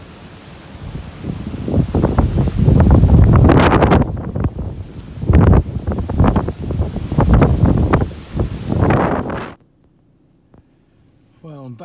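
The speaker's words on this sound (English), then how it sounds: "It's making quite an impressive noise with the wind blowing through it" Storm Ciara wind roaring loudly through scaffolding in gusty, rushing bursts that rise and fall for about nine seconds, then stop abruptly into near quiet.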